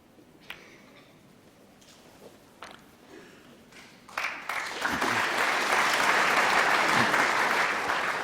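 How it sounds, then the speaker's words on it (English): Audience applause breaks out at a 2016 Masters snooker quarter final, starting after a few sharp clicks and quiet pauses, then swelling into sustained, full clapping from the crowd. "A round of applause."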